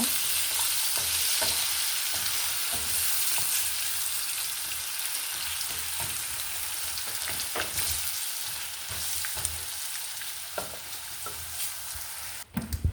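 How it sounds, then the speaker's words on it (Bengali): Potato pieces frying in oil in a pan, a dense continuous sizzle up close with occasional light scrapes and taps of a spatula, ending in a few sharper clatters. "পিস আলু সুন্দর মতো ভেজে নিব"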